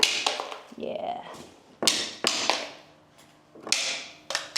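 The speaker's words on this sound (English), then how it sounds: "And now it's my favourite part, malleting these off." Rubber mallet knocking laid floor tiles loose, sharp loud separate strikes with brief ringing decays, a few spaced hits and quick doubles, with quieter handling noise between.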